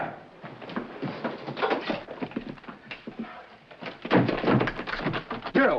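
Repeated pounding thuds on a door in a 1945 film noir scene, irregular heavy knocks coming in bursts and growing louder toward the end, with a voice speaking between them.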